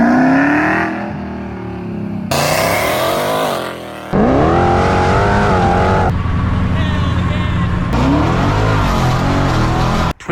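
A 1500hp Stage 2 RSP Jeep Trackhawk engine roars loud and close, revving up in repeated rising pulls with abrupt breaks between bursts, while voices talk over the engine noise.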